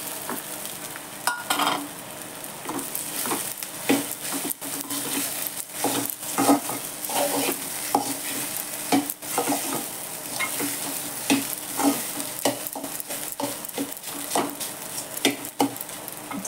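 Soaked sabudana is sautéed in a pan, a steady sizzle broken by rhythmic scraping and stirring strokes of a spatula, close and clear, with nobody talking.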